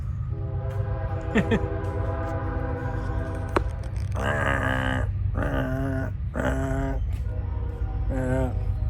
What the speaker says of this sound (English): Hear the train whistle?